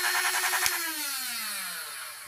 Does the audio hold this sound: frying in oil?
no